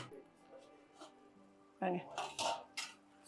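Metal lid clanking down onto a pot of boiling okra pachadi, a few sharp clinks and rattles after a quiet stretch with faint kitchen sounds.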